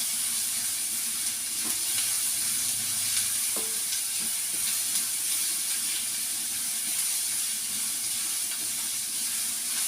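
Onions sauté in a pan for a Kerala-style prawn roast, giving a steady, even sizzle and hiss with a few faint clinks of stirring.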